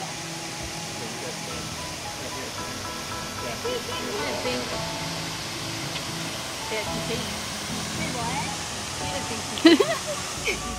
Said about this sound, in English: You want to go see the waterfall?